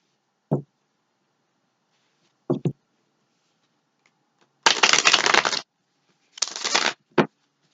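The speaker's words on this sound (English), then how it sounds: "One more shuffle." Tarot cards are shuffled in two riffling bursts, with a few sharp taps and knocks of the deck before and after, close up.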